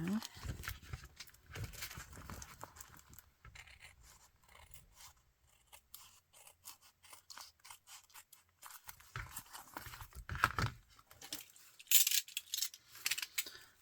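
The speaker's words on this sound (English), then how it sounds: "Do this with my scissors now." Several short crisp snips and rustles of a paper junk-mail envelope being cut by scissors, close up, with quiet handling noises in between.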